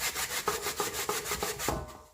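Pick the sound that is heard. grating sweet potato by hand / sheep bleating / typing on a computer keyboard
grating sweet potato by hand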